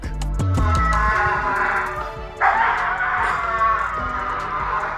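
A golden retriever barks and yips several times, close and fairly loud, with whimpering, whiny vocal tones between the short bursts.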